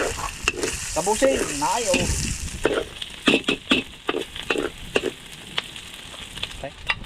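Aromatics and ginger sizzle loudly in a hot pan while being stirred for a very spicy Bicol express, with crackling bursts of frying and a brief voice speaking near the start.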